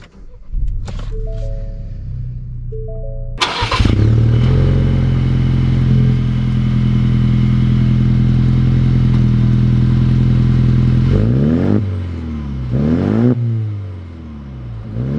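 A modified Ford Ranger engine starts with a loud burst, then holds a steady, strong drone close by before revving up and down in several rising and falling sweeps near the end; no one speaks.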